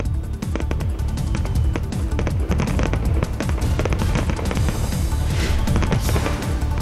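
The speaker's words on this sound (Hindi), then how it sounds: "बीती रात 12 बजते ही रामपुर में जमकर हुई आतिशबाजी।" Dense fireworks set off at midnight for a politician's birthday celebration in Rampur, a loud continuous barrage of overlapping bangs, crackles and booms with no clear pauses.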